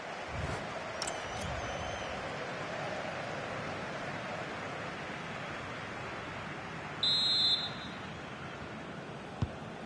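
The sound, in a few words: referee's half-time whistle in video game EA FC26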